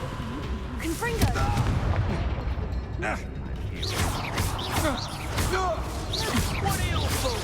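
Confringo blasting fire spells in Hogwarts Legacy ring out as repeated booming bursts amid loud, busy combat noise and game music, with voices heard over the chaos.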